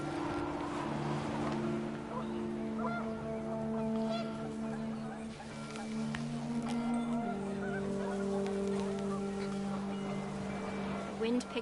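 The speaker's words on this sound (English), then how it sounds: "The wind picked up, and panicked geese appeared and quickly went" Panicked geese honk in a loose, overlapping chorus against a steady wind and low droning ambience in the What Remains of Edith Finch video game, moderately loud and continuous throughout.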